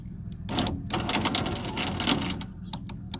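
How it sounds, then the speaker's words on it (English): Faulty window regulator motor in a 2005 Ford Focus door, a loud, rough grinding whir with ratcheting clicks that starts, pauses briefly and resumes, close by. "I think we might have something going on with our motor."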